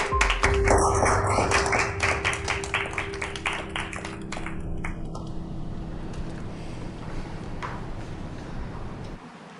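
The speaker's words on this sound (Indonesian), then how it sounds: "Semoga kalian memberinya tepuk tangan." A group in an office meeting claps, with dense rapid applause starting loud and then thinning and fading over several seconds.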